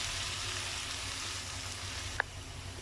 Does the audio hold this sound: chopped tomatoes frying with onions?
yes